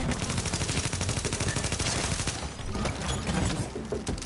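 A turret fires in The Division, a dense rapid stream of automatic gunshots that stays loud throughout with a slight dip midway.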